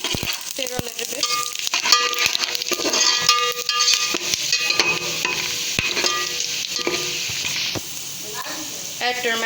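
A spoon stirring onions and spices as they fry in a pan, steady scraping and clinking over a continuous sizzle, fairly close, with a voice talking intermittently throughout.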